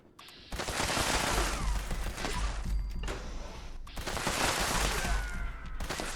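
A V63 laser carbine fires in Fallout 76, two long bursts of rapid, crackling shots separated by a brief pause, fairly loud and close with no talking.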